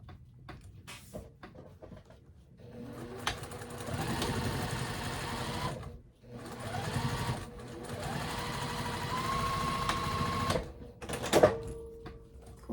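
Sewing machine stitching fabric for a boxy quilted bag, running in steady bursts of several seconds with brief pauses between, close and moderately loud.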